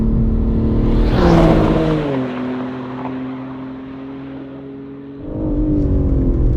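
BMW M3 on the Goodwood race track, heard from inside with a loud engine roar that drops as it downshifts into third. Revs blip, then settle to a lower drone before climbing again. No talking.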